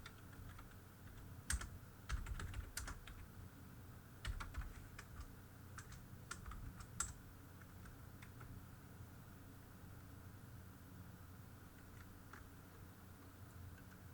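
Keys clatter on a computer keyboard as Urdu text is entered, a run of quick, light taps in irregular bursts over a steady low background hum, then a quieter stretch with only a few scattered clicks.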